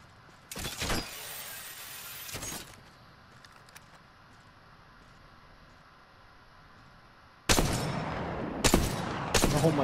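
Gunfire in a squad-based battle video game, heard as two short loud bursts early on, then a quiet stretch, then louder repeated shots returning near the end.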